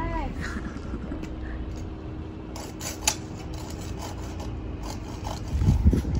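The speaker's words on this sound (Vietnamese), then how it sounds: "Hai chị em một đứa cắt một đứa cưa." Steady rasping of a hand saw cutting through a tree branch during pruning runs throughout, with a dull thump near the end and a voice speaking faintly in the background.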